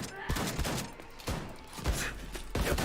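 Shotgun blasts in the video game Wolfenstein II: The New Colossus, several loud booming shots spaced roughly half a second to a second apart, each a sharp broadband crack with a short decay.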